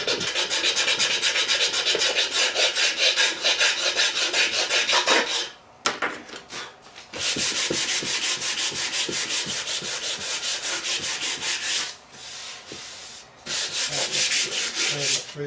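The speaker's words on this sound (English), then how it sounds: "I'm just taking a knife blade and scraping it off." A knife blade scrapes old, crazed lacquer off a 1920s homemade radio in loud, rapid rasping strokes, close by, broken by two short pauses before the harsh scraping resumes.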